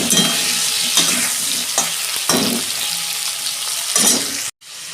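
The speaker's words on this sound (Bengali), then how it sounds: "আলু বেগুনটা আমার ভাজা হোক," Potato and eggplant pieces frying in a pan give a loud, close, continuous sizzle, broken by several spatula stirs and scrapes. The sizzle cuts out briefly near the end and then comes back, and no one speaks.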